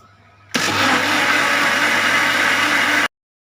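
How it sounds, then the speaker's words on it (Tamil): A mixer grinder beats eggs, sugar, oil and vanilla essence for a cake, switching on abruptly with a loud, steady whir that runs for about two and a half seconds and then cuts off. "ஸோ இது எல்லாத்தையும் நம்ம நல்லா மிக்சியில் பீட் பண்ணிக்கலாம்."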